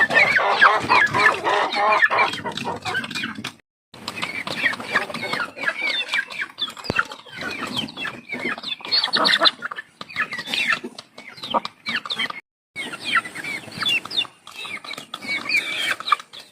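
Chickens cluck and squawk continuously and close by, with a few brief gaps of quiet between busy stretches.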